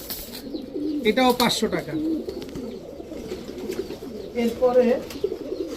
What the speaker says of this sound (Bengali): এরপরে আরও আছে একটা আর্মি নর কবুতর